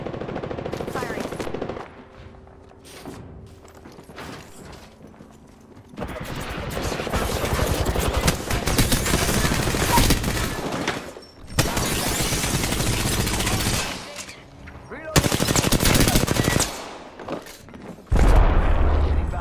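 Automatic weapons fire in the battle royale shooter Apex Legends, loud rattling bursts in several long volleys separated by short quieter gaps, with brief voices between bursts.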